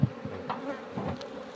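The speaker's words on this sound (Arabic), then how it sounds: "النحل كيدخل بحبوب بلقاح" Honeybees buzz close by at a hive entrance as foragers return carrying pollen, a soft continuous drone with brief louder passes of individual bees.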